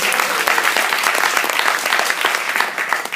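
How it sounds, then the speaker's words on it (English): An audience in a church service applauds together, a dense, steady patter of many hands clapping close by for about three seconds, with a slight fade at the end. "We can clap for Daddy."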